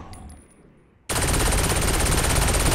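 Gunfire in the Saints Row IV video game starts abruptly after a quiet lead-in and continues as a loud, sustained automatic burst to the end.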